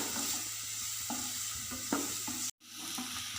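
Onions sauté in a pan for egg bhurji, a steady close sizzle broken by the repeated scrape and scuff of stirring.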